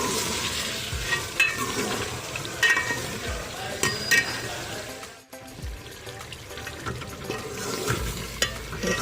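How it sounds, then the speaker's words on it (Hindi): Capsicum frying in ghee in a pan, a continuous close sizzle broken by scraping stir strokes and utensil taps, with a brief dip near the middle, no talking. "हमने इसको शिमला मिर्च को घी में फ्राई किया है"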